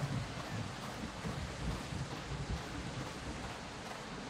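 Steady rain falling in the survival game Project Castaway, a dense, even wash of noise with a rumbling low end that holds at a constant level throughout, with no voices.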